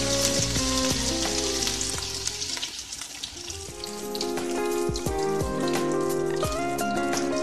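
Egg batter for mutta surkka fries in a hot pan with a loud, close, continuous sizzle and crackle, dipping briefly in the middle before swelling again, with faint clinks and no talking.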